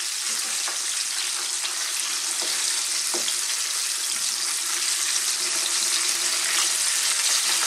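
Chicken pieces deep fry in hot oil with a dense, steady sizzle and hiss, close up. Scattered small pops and crackles break through the sizzle.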